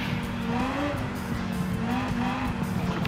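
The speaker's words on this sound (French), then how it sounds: "Donc le premier tour dérape, hein, comme avant, ça c'est obligatoire." Tires of a Renault Clio squealing and skidding on a wet track in a racing video game, a sustained engine drone with wavering squeal tones running steadily throughout.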